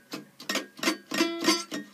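Four strings of a baritone ukulele plucked one after another in a quiet sequence of about six soft, short, dull notes, thin and muffled rather than ringing, close and alone.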